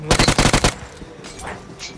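Automatic gunfire in the mobile battle royale game BGMI, a loud rapid burst of about eight shots in quick rhythm that stops abruptly, followed by quieter game sounds and faint voices.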